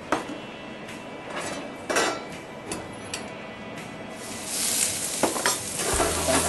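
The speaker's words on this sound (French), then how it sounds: "Pour commencer, on fait le chauffé d'huile avec des oignons." Onions fry in heated oil with a steady sizzle, broken by stirring scrapes and utensil knocks against the pan, and the hiss swells louder toward the end.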